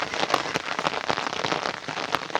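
Rain falls steadily in a dense, continuous patter of drops hitting surfaces, fairly loud and close throughout with no voices.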